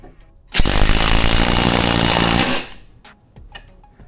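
A DeWalt impact driver runs a long fastener on a small battery, starting abruptly with a loud, steady hammering whir for about two seconds, then stopping, followed by faint clicks and handling noise.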